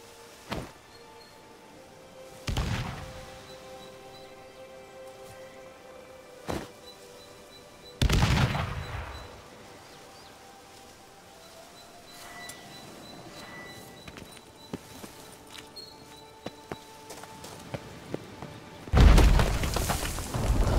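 Bombs exploding during a Witcher 3 monster hunt, several sharp booming blasts spaced seconds apart over quiet ambient game sound, with scattered smaller impacts and a heavier cluster near the end.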